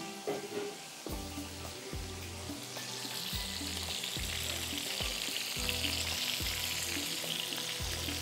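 Steam kebabs frying in a pan of oil with nigella seeds, cumin, green chillies and curry leaves: a steady, loud sizzle and crackle that grows denser, with occasional stirring sounds and no talking.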